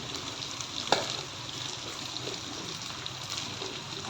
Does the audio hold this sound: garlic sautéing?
yes